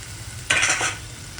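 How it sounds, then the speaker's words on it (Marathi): Onions with two bay leaves hit a hot pan and fry, a sudden sizzle with stirring that swells for about half a second and then settles into a quieter crackle. There is no talking. "आता आपण ह्याच्यात तेजपत्ता पण 2 टाकून घेऊया आणि चांगलं गुलाबी फ्राय करून घेऊया"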